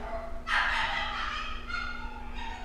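Dogs barking outdoors: a short burst of yipping, whining barks early on, then fainter yelps over a steady background hum.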